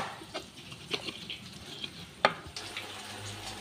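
Tempe bacem frying in a pan, a soft low sizzle with a few sharp clinks and taps of a utensil against the pan; faint and close, no talking.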